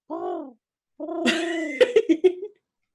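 A human voice imitates a pigeon's coo with a short low hum, then a longer wavering call that ends in a few quick throaty pulses, close and clear with nothing else behind it.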